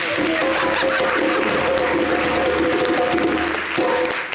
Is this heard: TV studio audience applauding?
yes